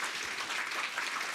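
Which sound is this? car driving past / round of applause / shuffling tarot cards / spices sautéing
round of applause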